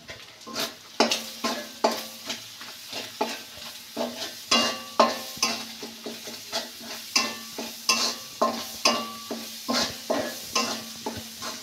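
Ten packets of Maggi noodles cook in a pot while a spoon stirs them in a steady, repeated rhythm of scraping strokes over a low, constant sizzle, close and clear with no voices.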